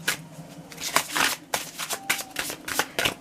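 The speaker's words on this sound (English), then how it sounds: "So I'm going to shuffle this deck one more time" A deck of tarot cards being shuffled by hand in a card reading, a series of close, crisp riffling bursts in an irregular rhythm with short pauses between, no voices.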